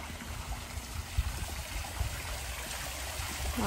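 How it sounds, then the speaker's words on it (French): A small garden waterfall feeds a little stream that runs toward a pond. The water makes a soft, steady trickling rush, faint and unbroken, with a few low knocks underneath. "Avec la petite rivière qui va jusqu'à la paillote, jusqu'au bassin."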